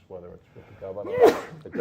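A single sneeze bursts out during a public board meeting, sharp and brief, cutting across a man's ongoing speech near the microphone.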